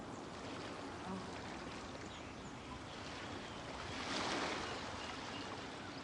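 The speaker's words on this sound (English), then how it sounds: "The sound of the ocean waves." Ocean waves wash steadily in the Genshin Impact video game, forming a dense, continuous roar of surf that swells briefly louder toward the end.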